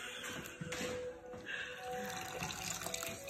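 Something being rinsed in a basin of clear water gives a close, continuous sloshing and trickling wash, fairly quiet and unbroken, with no voices.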